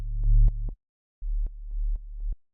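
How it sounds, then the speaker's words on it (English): Sub-bass sine wave from Operator fed through a saturator for added harmonics, in a soulful house track: low, sustained tones in two phrases separated by a short gap, clean and alone. "on the sub, what we have is, it's actually just a sine wave and operator"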